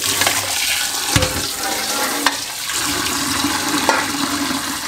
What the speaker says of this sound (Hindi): अलग अलग अच्छे तरीके से आपने पानी खोल के इसको वॉश करना है